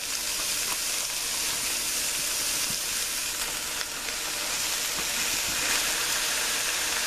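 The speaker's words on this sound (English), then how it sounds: "What I got is about maybe 2¼ pounds of 80/20 ground chuck beef. And we're going to go ahead and get that in there." About two and a quarter pounds of 80/20 ground chuck beef sizzles loudly in a pot for homemade chili, a dense, constant frying hiss, close up and continuous, with faint stirring and no talking.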